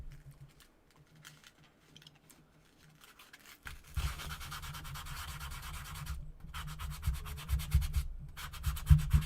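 Very fine sandpaper rubbing across watercolor paper, starting quietly and then growing into steady, close, scratchy strokes that continue to the end, with no talking.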